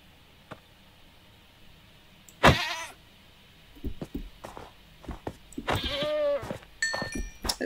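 Goats in a video game bleat in two loud, wavering cries over a quiet background with scattered small taps and knocks, close up.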